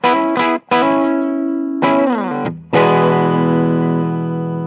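A 1992 Gibson prototype DC electric guitar in full humbucker mode plays a few bright, distorted chords and notes. Each one rings out with effects and reverb, and the last chord sustains alone.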